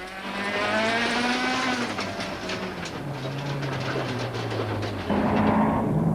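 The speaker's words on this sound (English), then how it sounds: "Listen and watch as he battles with a punctured tire." A 2003 mountain trail rally car driving on a punctured, flailing tire with a ripped-off brake pipe; a loud continuous engine drone with shifting pitch and rattling clatter, rising slightly toward the end.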